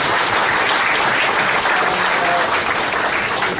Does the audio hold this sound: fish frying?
no